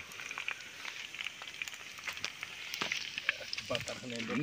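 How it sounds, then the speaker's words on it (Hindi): Chicken leg pieces frying in oil, a faint crackling sizzle with scattered pops, heard under someone talking nearby. "देखो भाई लोग फ्राई हो रहा है देखो"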